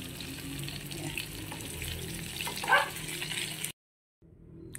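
Oil left from frying milkfish (bangus) sizzles and crackles steadily in a pan, moderately quiet, then cuts off abruptly before resuming faintly.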